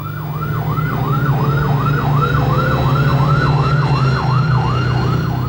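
An airport fire engine's siren wails in a steady, rapid rising-and-falling cycle over a low engine drone, loud and close throughout.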